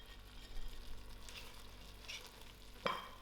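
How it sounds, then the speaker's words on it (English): Masalas frying with goat meat in a pan, a soft close sizzle with a few stirring scrapes and one sharper clink near the end, fairly quiet and without speech. "Allow this to fry for a few seconds."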